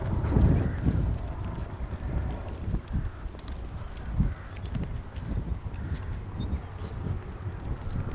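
Horse hooves clip-clopping at a canter during polocrosse training, a steady rhythmic drumming of footfalls over wind noise, fairly close and moderately loud.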